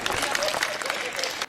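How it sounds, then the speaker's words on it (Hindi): An audience at a Hindi poetry gathering bursts into brief, loud applause for the humorous poet Raghavendra Sarkar, a dense wash of clapping that cuts off sharply. "तो जोरदार तालियां राघवेंद्र सरकार के लिए आप बजाएं"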